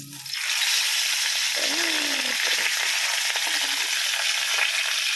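Pompano fish sizzles and crackles steadily in hot oil, a dense bright hiss close by, with a brief clink of a utensil.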